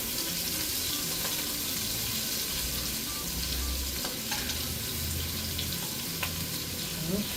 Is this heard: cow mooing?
no